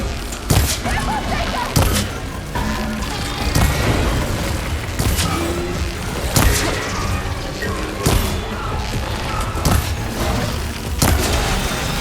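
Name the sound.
explosion in video game Horizon Forbidden West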